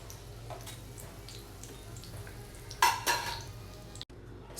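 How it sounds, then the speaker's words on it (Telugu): Chicken pieces lightly frying in oil for garlic chicken, a steady low sizzle with a sudden louder hissing burst partway through and a brief cut near the end. "చికెన్ అంతా కూడా అన్నీ ఇలా ఫ్రై అవ్వాలి లైట్గా, మరి మాడిపోకుండా"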